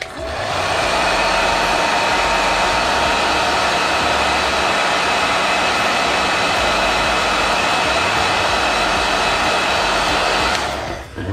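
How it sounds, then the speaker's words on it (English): A hair dryer blows steadily on a carbon fiber part for a Bugatti Chiron Sport, a loud continuous whooshing hum that starts and stops cleanly and runs for about ten seconds with no talking. "Hair dryer."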